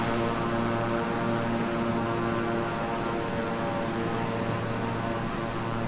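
Twin propeller engines of a King Air 350i in Microsoft Flight Simulator drone steadily, a constant tonal hum with layered harmonics that stays even and loud, heard alone.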